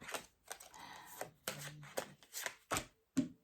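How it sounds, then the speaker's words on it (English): An oversized tarot deck is shuffled by hand in a quiet room: short papery riffles and slaps come in uneven bursts about every half second, close to the listener, with no talking. "I've got this massive deck, so just bear with because it's not very easy to shuffle."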